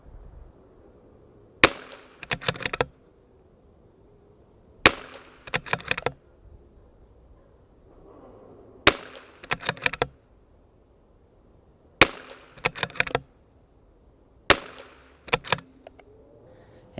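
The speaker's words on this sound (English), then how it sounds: "we're gonna see what kind of 5-shot group it'll lay down" A CZ 457 rifle with a 26-inch Lilja straight barrel fires five spaced shots, each a sharp crack followed by a quick rattling echo, separated by quiet outdoor pauses.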